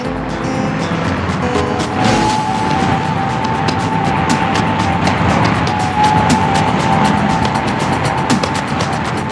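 Stock cars racing at the Daytona super speedway, loud continuous engine roar with cars surging past and rising and falling in pitch throughout.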